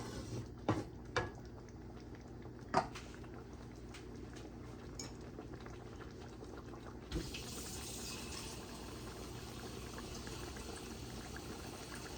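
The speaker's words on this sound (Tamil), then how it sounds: "தண்ணியை விட்டுக்கொள்கிறேன்." Water pours steadily into a pot, a continuous watery rush with a few clinks and knocks early on, getting fuller and brighter partway through.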